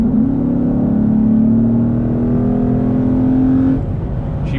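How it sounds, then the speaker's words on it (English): A 2014 Ford Mustang GT California Special with the Coyote V8 accelerates hard, its loud, close engine note rising steadily in pitch through the revs before cutting off near the end, with no talk. "she pulls really nice all the way through the rev range"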